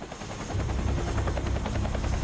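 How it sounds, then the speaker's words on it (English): A helicopter in Quantum Break thumps with fast, steady rotor chop that swells in after a brief lull and stays loud and close to the end, with no talking. "That's Wesky's chopper."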